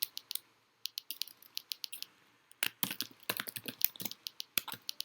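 Typing on a computer keyboard: bursts of quick, crisp key clicks separated by short pauses, close and quiet in an otherwise silent room.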